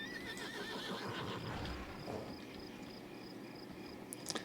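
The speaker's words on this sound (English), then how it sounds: "Let's hop on our horse, might as well." In World of Warcraft's Stormsong Valley, a horse gives a neigh amid steady clip-clop hoof steps and a bed of crickets and ambient game sound, at moderate volume with no talking.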